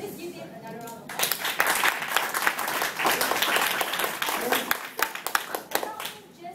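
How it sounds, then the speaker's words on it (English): Audience at a Toastmasters club meeting breaks into a round of applause after brief chatter, with dense, fairly loud clapping that rises, holds steady and thins toward the end. "Let's give him another round of applause."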